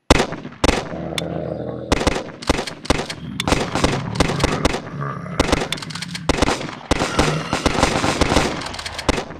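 Grenade blasts and rapid gunfire from a zombie defense video game, loud and dense bursts of shots and explosions rattling almost continuously with brief gaps.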